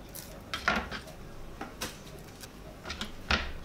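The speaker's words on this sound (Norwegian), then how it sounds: "Da har vi agurk som skal skjæres." A knife cuts cucumber on a board for tacos, a few separate close taps and clacks spaced irregularly, with faint kitchen clatter between them.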